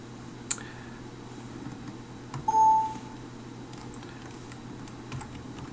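A few sparse keystrokes on a computer keyboard while a key combination is entered to start recording a macro, with one short beep partway through, over a quiet room hum.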